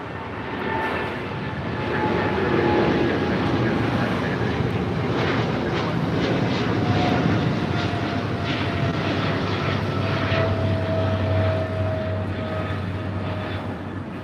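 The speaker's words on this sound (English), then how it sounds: "This is Korean Air Cargo 208 taking off to Seoul on a 777 freighter" A Korean Air Cargo Boeing 777 freighter takes off at LAX, its jet engines a loud, sustained roar that swells and holds steady for the whole stretch, with a deep low rumble beneath and no talk over it.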